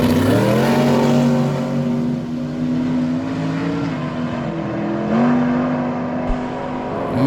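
Small tire no-prep drag racing cars launching at Miramichi Dragway, a loud sustained engine roar with rising and shifting pitch, close and dominating, with no talk over it.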